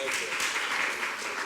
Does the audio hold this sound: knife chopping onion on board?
no